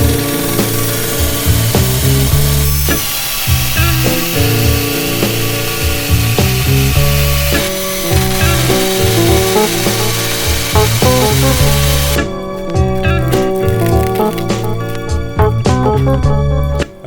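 A drill spins sandpaper against a 27.2 mm bicycle dropper post, making a loud, continuous grinding whine with a shifting pitch that runs through the whole stretch without pause.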